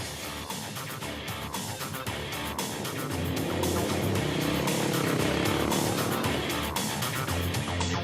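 Private rally cars and motorcycles racing on a Mauritanian desert stage of the 2007 Dakar, engines roaring loudly and continuously as they pass close by, with no talk.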